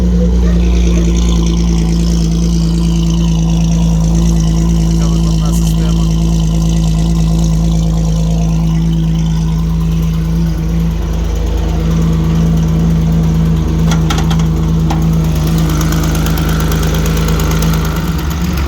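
A 1954 GAZ M-20 Pobeda's 2.9-litre engine idles loudly and continuously with a deep, steady drone and a persistent low hum, close by and unbroken.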